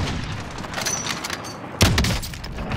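Gunfire in Call of Duty: Modern Warfare, a noisy game battle with a burst of shots and a heavy boom near the end over a constant rumbling background.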